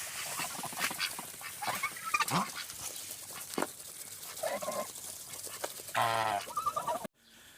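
Ducks quack in short, scattered calls among other farmyard noises in a Ukrainian village, moderately close, ending abruptly.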